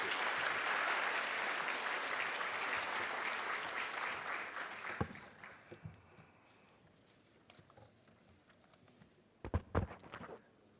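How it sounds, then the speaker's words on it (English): Audience applause at a conference on Thailand's Eastern Economic Corridor, steady crowd clapping that dies away after about five seconds, followed by scattered thumps and knocks in a quieter room. "please show your appreciation with a round of applause"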